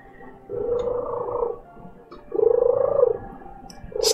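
A cat purrs close by in two long rhythmic bursts separated by a short pause, loud and alone against a quiet background.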